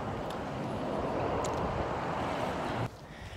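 Steady broadband wind rush buffeting the microphone outdoors in Kelowna, Canada, loud and continuous, dropping off abruptly near the end.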